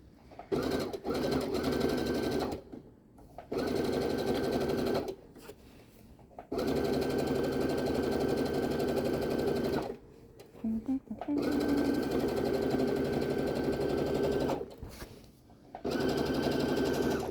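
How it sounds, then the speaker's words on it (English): Domestic sewing machine stitching through layers of costume fabric, running in steady buzzing bursts of one to three seconds separated by short pauses, close and fairly loud. "at the bottom you want to sew all the way off and on the fabric"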